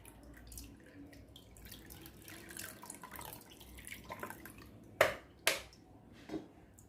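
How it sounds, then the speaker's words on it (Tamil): Water poured over boiled boba pearls in a strainer gives a soft, continuous splashing trickle, quiet and close, with a couple of sharper splashes near the end. "இப்போ இது மேலே கொஞ்சம் தண்ணி ஊற்றி ஒன்று நான் வடிகட்டிக்கிறேன்."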